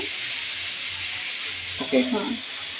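Carrots fry slowly in a pan over low heat for homemade carrot payesh, giving a steady, even sizzle and hiss throughout. A voice speaks briefly near the end.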